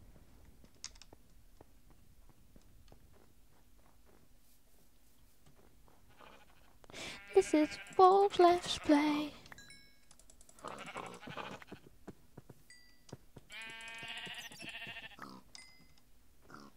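Sheep in the video game Minecraft let out a few bleats that sit between bursts of someone talking, alongside scattered keyboard clicks during quiet stretches.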